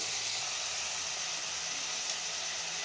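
Tomatoes fry with salt in a pan, giving off a steady, even sizzle and hiss that holds without a break throughout, with no voices.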